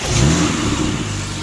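A stage 2 BMW E92 335is with an aftermarket blow-off valve, downpipe and intakes revs up loudly nearby, its engine note rising briefly and then easing back toward idle, with no talking.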